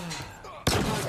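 A Magnum pistol fires in Halo Infinite, one sharp, loud, close shot bursting in after a quieter stretch of game ambience and fading into a ringing tail.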